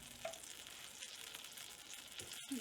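A chicken quesadilla fries in a pan, giving a steady, close sizzle throughout with a few faint clinks from a utensil. No one speaks.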